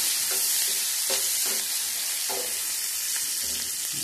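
Chopped onion pieces frying in a little oil in a pan for a pachadi, a constant loud sizzle with occasional stirring scrapes, no voices.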